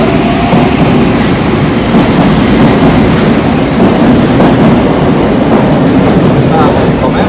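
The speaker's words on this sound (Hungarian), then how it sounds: "Távozik a metró." A Bucharest metro train pulls away from a very narrow platform, a loud, steady roar of wheels and rattling cars filling the underground station with faint voices beneath.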